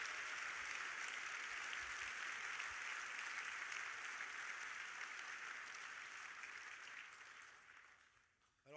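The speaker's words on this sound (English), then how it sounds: "I'd ask you to just join me in a round of applause for everybody who has" An audience at the 2018 Marine Corps Birthday Ball gives a sustained round of applause for the event organizers, a broad, even wash of clapping that slowly tapers and fades near the end.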